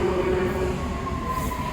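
An underground train on the District line at Gloucester Road station in London rumbles along the platform, with a low mechanical roar and a thin, sustained wheel squeal running over it.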